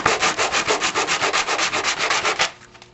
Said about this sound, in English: I'm using 100 grit sandpaper.